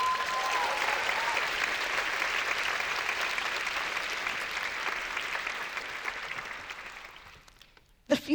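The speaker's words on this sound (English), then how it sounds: "Give her another round of applause, please." Sustained audience applause filling a keynote hall, steady and dense for several seconds before fading out, with a brief voice starting up at the very end.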